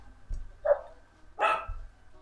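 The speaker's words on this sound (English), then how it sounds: "It's like 3 different dogs barking." Dogs bark in the background during an Animal Crossing New Leaf session, with two separate bursts of barking that sound like more than one dog. No one talks over them.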